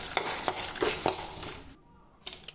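Dry-roasting lentils for paruppu podi are stirred in a hot pan alongside chilies, giving a few scraping clinks in a steady rhythm over a soft rustle, close and moderate, before the pan falls nearly silent and the stirring briefly resumes.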